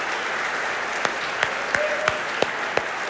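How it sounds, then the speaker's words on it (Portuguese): A church congregation applauds loudly during an evening service, steady massed clapping with a few sharp, distinct claps standing out at irregular intervals. "vamos aplaudir com muita força nessa noite"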